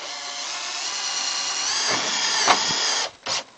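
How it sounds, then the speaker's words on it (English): A power drill drives a number 8 screw into a dormer retrofit, a steady close whirring whine for about three seconds that then stops and gives a short final burst. "ready to screw it on. Take my little number 8 screws."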